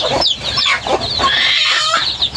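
Chickens clucking on a farm with chicks among them, a busy overlapping chorus of close, loud clucks and squawks with no pauses.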